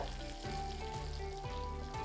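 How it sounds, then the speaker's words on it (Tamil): Curry leaves and garlic cloves sauté over a low flame in a pan, a steady close sizzle with a regular low pulsing underneath. "இப்போது அடுத்து 2 நிமிடம் இதை லோ ஃப்ளேம்லேயே வச்சு நல்லா வதக்கிக்கலாம்"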